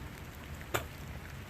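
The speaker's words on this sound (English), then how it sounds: "So it's a beautiful, cold, rainy day." Rain falling steadily on a cold, rainy day, a soft continuous wash of drops with one brief louder patter partway through, heard alone without voices.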